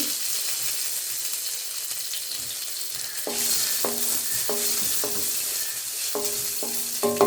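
Crushed garlic, cumin and dried chillies frying in hot oil give a steady bright sizzle, joined from midway by repeated scraping stir strokes, close and fairly loud with no talk.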